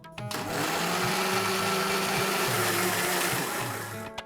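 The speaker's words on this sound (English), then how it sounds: "I'm going to close the lid and grind this into a fine puree" A kitchen blender grinds freshly chopped tomatoes and coriander into a fine puree for Kashmiri rajma curry, its motor whirring at a steady, loud pitch from start to finish before it winds down.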